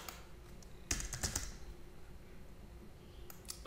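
Computer keyboard typing in two brief bursts of clicky keystrokes, one around the middle and one at the end, close and fairly quiet over a low room hum with no speech.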